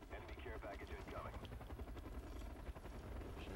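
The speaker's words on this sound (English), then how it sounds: "I should probably shoot that helicopter down" Helicopter in the Call of Duty Black Ops video game thudding overhead in a constant low rotor chop, quiet and steady beneath other game noise and some talking.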